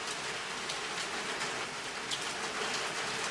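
Steady rain falls outdoors in a yard, a continuous even patter of drops hitting surfaces close by, with no voices over it.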